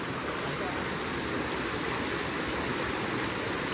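A shallow Konkan stream where cans are set as crab traps flows in a steady, even hiss of running water, with no breaks throughout.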